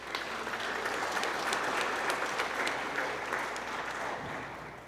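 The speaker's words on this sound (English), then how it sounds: "how about we hold the applause to end?" An audience claps steadily, a sustained round of applause that fades slightly at the end.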